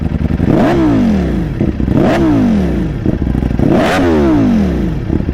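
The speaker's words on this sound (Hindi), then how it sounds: "अब आपको सुनाता हूँ एग्जॉस्ट, दोनों के साउंड में डिफरेंस क्या है।" Superbike engine with an Akrapovic full-system aftermarket exhaust revs loudly and close up in three sharp, rising-and-falling blips, with a rough, raspy note and mechanical clatter between revs.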